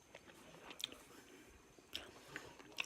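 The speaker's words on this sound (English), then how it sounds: "I'm tasting the pizza rolls right now, and I'm tasting the cheese" Cooked pizza rolls being bitten and chewed close up, a few quiet crunchy bites spaced apart over faint background noise.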